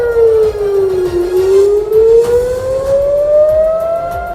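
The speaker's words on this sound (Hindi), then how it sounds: "रात को हवाई हमलों की चीख चीख कर चेतावनी देते सायरन" A loud air raid siren wails steadily, its pitch dipping low and then slowly climbing again, droning on without pause.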